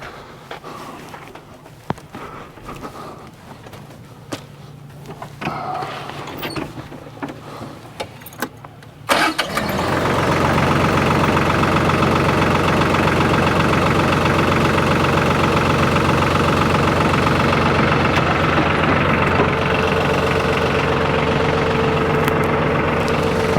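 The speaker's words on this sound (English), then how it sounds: "I guess I should start this tractor up." Quiet shuffling and faint knocks, then a tractor engine cranks and catches, settling into a loud, steady idle that chugs on to the end.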